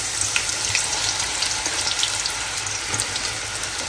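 Onions dropped into hot spiced oil in a home kitchen pan, giving a steady, close, loud sizzle with crackling pops throughout and no voices.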